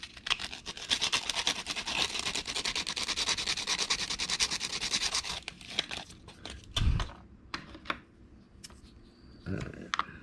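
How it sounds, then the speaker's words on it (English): Sanding the chrome plating off a plastic part from a 1/32 scale Revell Monogram Mack R model truck kit: rapid, steady scratchy rubbing strokes fill the first half, then a few sparse rubs and bumps follow, close and moderately quiet. "I'm going to sand the chrome off."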